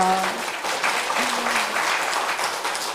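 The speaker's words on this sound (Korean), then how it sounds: "박수 한번 쳐주세요" A congregation at a Won Buddhist temple sermon breaks into sustained, even applause lasting about three seconds, with a voice briefly trailing off as the clapping begins.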